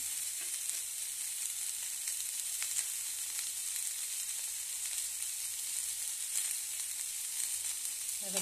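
Ginger frying in hot oil with panch phoron whole spices, a steady close sizzle and crackle running throughout with a few faint pops and no talk.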